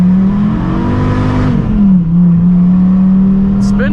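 Dodge Viper V10 engine revving up close, a loud steady drone that climbs in pitch, dips briefly and settles back into a sustained high idle-like roar, with the engine note dominating throughout.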